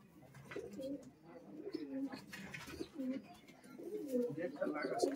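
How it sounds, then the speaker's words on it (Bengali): Small Giribaj pigeons coo softly in repeated low throaty phrases, close by, with a voice talking over them now and then. "গিরিবাজ পায়রা, খুব ছোট্ট পায়রা"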